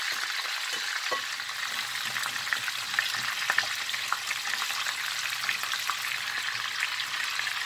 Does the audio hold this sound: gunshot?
no